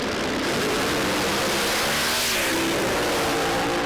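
A small, fast silver race car roars down the track, its broadband engine and tyre noise swelling and rushing past at close range, loud and continuous with no voices.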